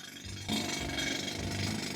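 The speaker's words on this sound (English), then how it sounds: "And then start drilling." A heavy rock drill bores into a stone block, starting after a brief quieter moment and then grinding and rattling steadily, a moderately loud continuous mechanical drone.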